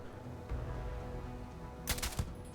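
Rifle fire in the video game Starfield during a night hunt in the woods of Akila: two sharp, loud cracks close together near the end, over a steady low background hum.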